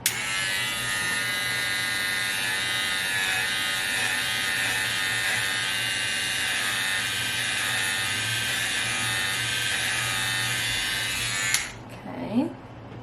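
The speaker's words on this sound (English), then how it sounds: "my clippers are not good at all. I just got it from Walmart." Cheap Walmart electric hair clippers buzz continuously and loudly while cutting hair for about eleven seconds, then switch off, leaving brief soft handling noise.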